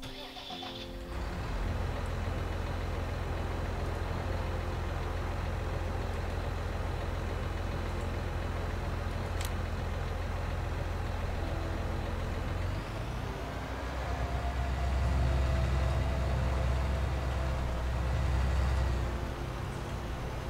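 A tractor engine in Farming Simulator 19 cranks and fires up, then settles into a steady low diesel rumble that rises as the machine drives off, loud and continuous with no talking.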